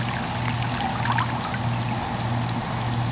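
Condensate water from a crawlspace dehumidifier pours out in a steady, close, continuous stream with trickling splashes and a faint low hum underneath.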